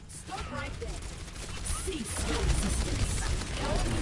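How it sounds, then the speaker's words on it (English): Overwatch match between Northborn and Deus Vult with D.Va's self-destruct bomb going off amid a burst of crackling blasts, gunfire and impacts, loud and chaotic with game noise throughout. "Tay goes for the remake using that Diva bomb"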